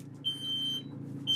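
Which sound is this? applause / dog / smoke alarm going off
smoke alarm going off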